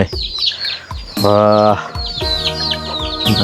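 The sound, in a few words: chickens clucking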